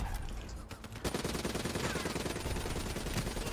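Sustained automatic gunfire in Call of Duty: Black Ops 3, shots aimed at the player, dense and continuous after a quieter first second with rapid overlapping bursts.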